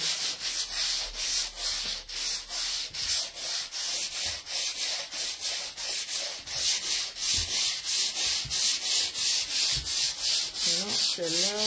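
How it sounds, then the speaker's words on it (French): A filled wall being sanded by hand during a home wall makeover: steady, close, rhythmic rasping strokes repeat without a break, and no voices are heard. "C'est l'heure du ponçage."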